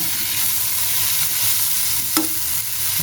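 Potatoes and onion fry with dried lote fish and bean seeds in a pan, making a loud, steady sizzle as the mix is stirred, with one sharp utensil scrape near the end.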